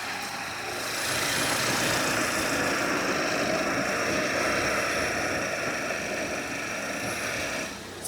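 A car engine idles with a steady, broadband hum that grows slightly louder after the first second, once the air conditioning switches on, then holds even to the end.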